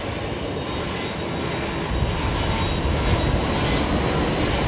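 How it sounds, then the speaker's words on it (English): A Singapore Airlines Airbus A350-900 taxiing along taxiway Bravo gives off a steady, loud engine rumble and hiss that swells slightly as the jet nears, with no voices. "There is the Singapore A350-900 heading up our way along taxiway Bravo"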